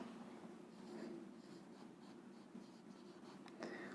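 Faint, steady scratching of writing on a board during a Hindi grammar lesson, continuous strokes with a few sharper taps, quiet and close with no talking.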